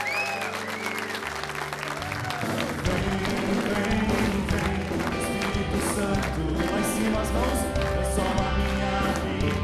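A church congregation claps steadily to welcome Padre Joelson, sustained and dense, blended with music and singing throughout.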